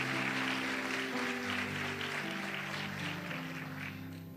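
A church congregation applauds in a dense, continuous patter of many hands while sustained organ or keyboard chords ring beneath, fading slightly toward the end.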